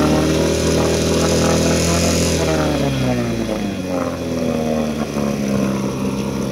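A 1984 Evinrude 4hp two-stroke outboard motor buzzes loud and close, its pitch rising as it revs and then sliding back down toward idle.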